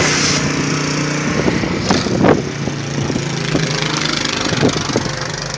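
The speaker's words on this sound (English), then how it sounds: "made a path in the backyard with the snowblower" A snowblower runs steadily in a backyard during a blizzard, clearing a path through deep snow; the engine drones continuously and fairly close, with brief louder surges and bursts of thrown snow.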